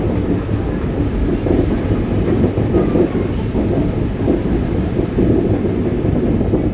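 Interior of a new Buscarril rail car in motion, with a continuous loud rumble of wheels on track, faint rhythmic clatter and a brief thin squeal, steady throughout.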